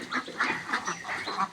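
Khaki Campbell ducks on a duck farm quack in a steady series of loud, close calls about every third of a second, overlapping one another with no talking.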